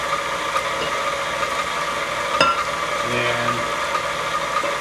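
Electric mixer blending shredded carrots into carrot cake batter, a steady mechanical whir and rattle running throughout at moderate loudness, with a brief spoken word.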